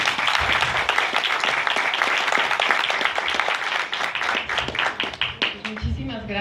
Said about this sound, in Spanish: Les pido un aplauso para darle la bienvenida.